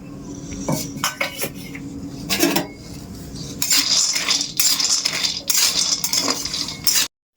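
Nuts tipped into a hot, dry kadai on a gas stove: bursts of hard rattling and clattering against the metal pan, loud and close, ending abruptly.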